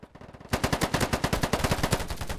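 Rapid automatic fire from an AK rifle in a free-to-play shooter game bursts in after a brief quiet moment, a loud, steady stream of closely spaced shots continuing to the end.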